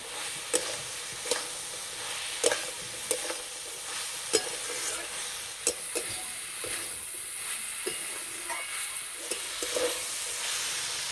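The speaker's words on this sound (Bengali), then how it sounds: "মশলার সঙ্গে কুমড়ো ভালো করে ভেজে নিয়েছি" Pumpkin frying with ground spice paste and a little turmeric, sizzling steadily while a spoon scrapes and stirs the pan in repeated sharp knocks.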